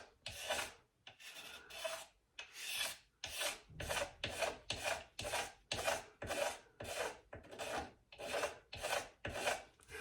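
A burnished hand scraper with a small hook scrapes wood for spot cleanup on winding sticks, giving a steady run of short rasping strokes, about two per second, close up and with no talk.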